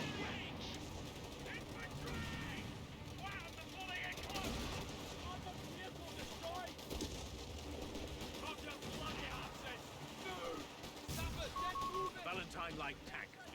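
Rattling gunfire and heavier artillery thumps in a Company of Heroes 3 Italian campaign battle against a command tank, a busy mix of bursts and shots under near-constant voices.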